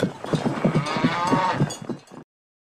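A low, drawn-out moo from a cow, fairly close and steady, lasting about two seconds before cutting to silence.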